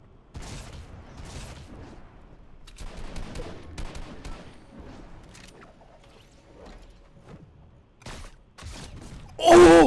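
Drum shotgun blasts in mobile Fortnite on auto fire: a scattered series of sharp gunshot bursts over several seconds, some clustered in quick succession, with a louder blast at the end.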